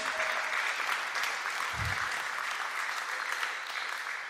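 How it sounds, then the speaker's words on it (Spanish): A conference audience at a church men's panel gives the pastors a steady round of applause, a dense, even clatter of many hands lasting several seconds with a brief low thump midway. "¿por qué no les damos un fuerte aplauso a nuestros hermanos?"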